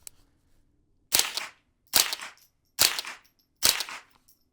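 A Tippmann M4-22 rifle fitted with a Huxflow TI-22 suppressor fires 36 grain supersonic rounds into dirt: four sharp, close cracks, evenly spaced under a second apart, with quiet gaps between them.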